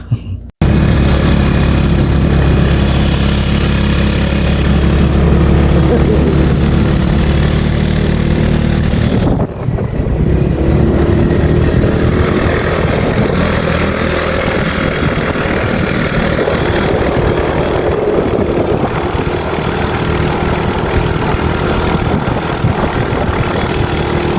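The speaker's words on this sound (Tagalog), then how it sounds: "paminaw ra ganing tingog sa motor medyo mungog na gid ang makina" A motorcycle engine, already fairly noisy, runs steadily at a rough, rumbling idle on a ride to the Badian highlands, close by and fairly loud, with a brief cut near the start and another around ten seconds.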